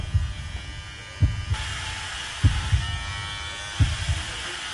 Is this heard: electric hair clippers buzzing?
yes